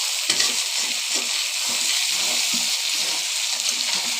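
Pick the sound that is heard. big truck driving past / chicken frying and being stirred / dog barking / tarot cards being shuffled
chicken frying and being stirred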